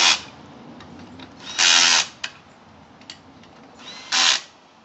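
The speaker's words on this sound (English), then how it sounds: "Have those lugs on, and we're going to tighten them up." A power tool tightens wheel lug nuts on a jacked-up vehicle: short, loud whirring bursts separated by pauses, with small clicks between them, up close.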